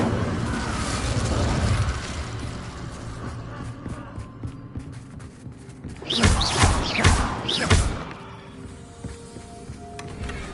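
An Incendio fire spell cast in Hogwarts Legacy erupts midway as a cluster of sharp whooshing bursts and pops, standing out loudly over a softer game ambience.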